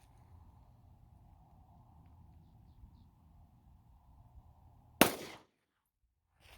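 A single sharp, loud gunshot cracks from a Smith & Wesson SD9VE 9mm pistol firing Winchester white box ammunition, ringing out briefly after several seconds of quiet outdoor hum.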